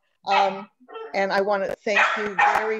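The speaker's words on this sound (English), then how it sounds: "And oh, that's my dog." A pet dog gives a few short, sharp barks and yips indoors, cutting in between and over a person speaking close to the microphone.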